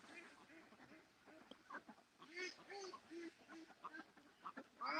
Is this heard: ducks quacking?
yes